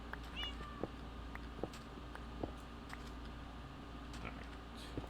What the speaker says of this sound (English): Gosh darn it, stupid cats.